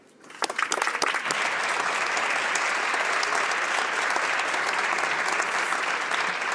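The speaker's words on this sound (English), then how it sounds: "I would like to invite all members of the House to join me in a round of applause" Members of the House of Commons break into applause, starting with a few scattered claps that quickly swell into dense, sustained clapping from a large chamber.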